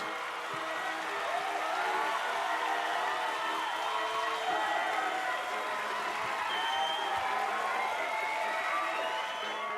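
A large crowd cheering and clapping as the Titanic slides down the slipway into the River Lagan, a continuous distant roar of many voices and applause sustained at an even level throughout.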